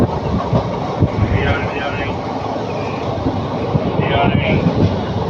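Passenger train travelling from Erode to Ernakulam, a loud steady rumble from inside the carriage with faint rhythmic wheel clatter and occasional creaks, and someone talking over it.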